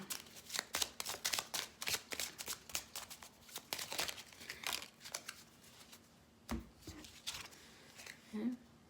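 Oracle cards are shuffled and drawn with a string of quick papery riffles and flicks. They come in irregular bursts, close and fairly loud, with a pause near the middle and a few softer slides toward the end.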